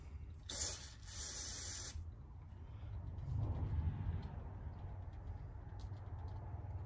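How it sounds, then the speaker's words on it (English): Carb cleaner sprays in a short loud hiss into a 1932 Ford Model B carburetor, then quiet shop background follows. "So let's get some carb cleaner. Let's clean them out good."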